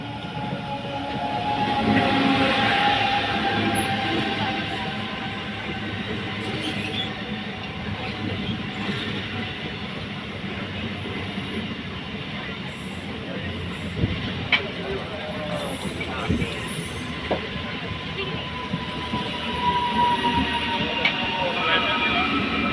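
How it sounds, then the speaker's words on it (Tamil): Palakkad–Ernakulam MEMU passenger train rolling past Punkunnam railway station, a long steady rumble of wheels with scattered clanks and squeals over the rails, someone talking intermittently beneath it. "இப்போ போன ட்ரெயின் வந்து பாலக்காடு எர்னாகுளம் மெமு பேசஞ்சர்."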